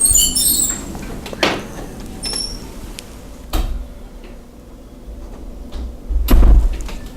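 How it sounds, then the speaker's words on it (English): A door closes indoors during a talk in a hall, with a couple of firm knocks and a heavier thud near the end over a quiet room. "Can you close the door there?"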